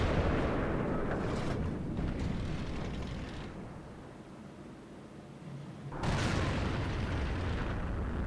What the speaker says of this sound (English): Now check out this friendly Object 212A artillery.